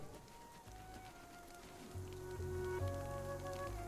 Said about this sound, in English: Oh, it's raining today.